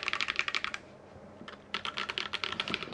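Fingers type on a Graystudio Space 65 Cybervoyager R2 mechanical keyboard with Holy Panda switches, giving crisp, rapid keystroke clacks in two bursts separated by a short pause, close and clear with no voices.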